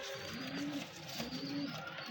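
Pigeons coo softly on a rooftop in a low, rolling murmur, faint beneath a steady outdoor hiss with no voices.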